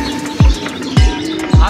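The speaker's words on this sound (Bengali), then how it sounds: "যাক নামলো কবুতর, আমরা কবুতর নামাইতেছি।" Pigeons being brought down after a long flight: three loud, close, descending coo-like calls or wingbeat bursts arrive at a regular spacing, over a faint continuous background hum.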